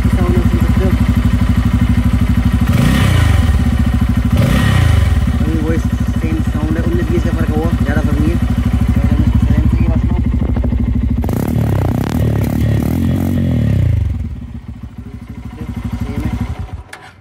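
A Bajaj Pulsar N250 motorcycle with about 11,000 km on it runs close by, its engine idling with a steady throb broken by several blips of the throttle that rise and fall, loud throughout, with a voice talking over it.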